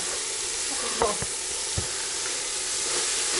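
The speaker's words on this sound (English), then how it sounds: "And then I want to add the kales now." Kale goes into a hot frying pan during Kenyan village cooking with tomatoes, and a steady hiss of sizzling rises, broken by a few short clinks and stirring scrapes near the start, close and with no talk.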